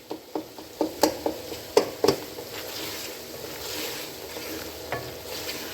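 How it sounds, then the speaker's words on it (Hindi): Chicken curry being stirred and fried (bhuna) in ghee: a few sharp spoon-against-pot clacks in the first two seconds, then a steady close sizzle with occasional softer scrapes. "अभी मैं अच्छी तरह भून रही हूँ इसको।"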